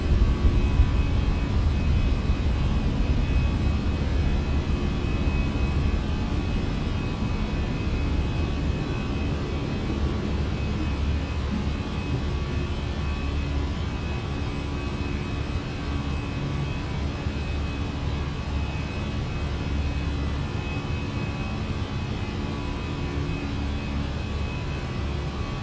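Jet engines of an Air Canada A320 roar steadily during a takeoff roll and climb in Microsoft Flight Simulator 2020, a loud, unbroken broadband rush with a faint tonal whine throughout.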